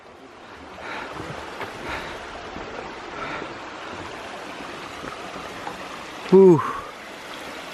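Falls Creek in Pennsylvania rushes steadily beneath a trail bridge, a soft constant flow with some wind. A person exhales audibly near the end.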